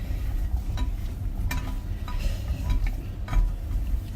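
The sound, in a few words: mixing parboiled chips with Fry Light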